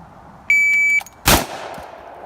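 A single sharp gunshot cracks at a shooting range right after a steady electronic beep, followed by a brief echo and quiet background.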